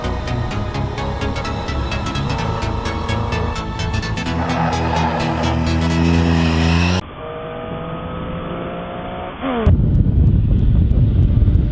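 A Triumph 675 Daytona motorcycle, rated at 130 horsepower and revving to 14,000 rpm, accelerating hard: a loud, rising engine whine climbs through the gears, then cuts to rushing wind noise with no talking.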